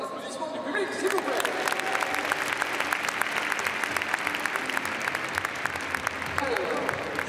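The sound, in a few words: public applause at show jumping event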